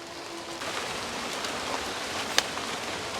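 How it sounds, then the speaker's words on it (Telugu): Light drizzle patters steadily under palm trees in open fields, a soft continuous hiss with a single sharper drip near the end and no talking. "ఇదిగోండి సన్నగా వాన పడతా ఉంది."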